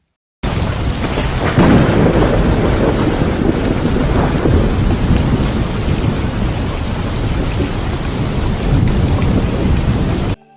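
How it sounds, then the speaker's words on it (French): Heavy rain pours steadily while deep thunder rumbles and rolls through, loud and close, with no talking. "le tonnerre gronda. La pluie commença à tomber fortement."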